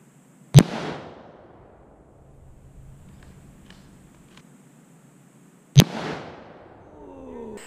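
Two sharp, loud gunshots, several seconds apart, are fired at a running motor engine during outdoor target practice, each crack followed by a short fading echo.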